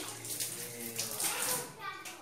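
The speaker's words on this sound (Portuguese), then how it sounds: "Ligar um pouquinho de água" A thin stream of tap water runs into a sink, soft and close, while liquid pine soap is being lathered; a voice murmurs faintly beneath the splashing.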